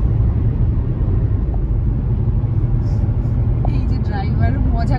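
A car driving in the early morning on the old STKK road between Dalkhola and Kisanganj, lined with mango and banana orchards. Its steady low road rumble runs throughout, with people talking over it.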